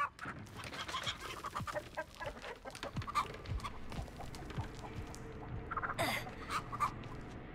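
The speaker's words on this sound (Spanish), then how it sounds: "¿Hasta las gallinas hacen bulla?" Chickens clucking around a farmyard, several birds making short overlapping calls at moderate distance over steady background noise, with a brief louder squawk near the end.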